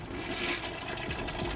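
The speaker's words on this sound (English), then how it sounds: "I listened as the sound of a toilet being flushed was heard." Toilet flushing in the video game Head AS Code: a steady rushing water wash that fills the short stretch at moderate loudness, with no talking over it.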